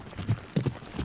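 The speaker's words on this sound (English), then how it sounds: "Forced to watch horses trot and canter in a barn while God looks down on them and judges." Horses trotting and cantering inside a barn in the video game Riding Star: a run of soft, muffled hoof clip-clops falling in loose rhythmic groups, fairly close and moderately loud, with no voices.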